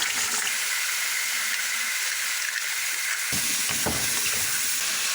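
Chicken frying in a pan for biryani gives off a loud, steady sizzle and hiss, with a brief burst of stirring clatter partway through.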